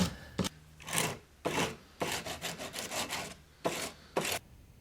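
Kydex cheek riser for a rifle stock being sanded by hand with 80 grit sandpaper backed by a firm block: repeated rough scraping strokes in short bursts and quicker runs, close and clear with no talk.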